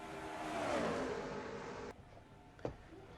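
Race cars roaring down the backstretch of an oval toward turn three, a loud passing engine drone that drops off abruptly, followed by a brief sharp burst.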